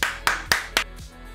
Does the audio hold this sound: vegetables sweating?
no